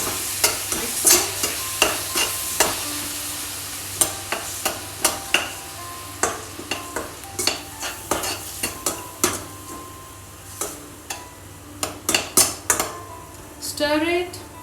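Palak paneer being stirred in a frying pan with a metal spoon, steady rhythmic scraping and clinking against the pan over a low sizzle, close and continuous.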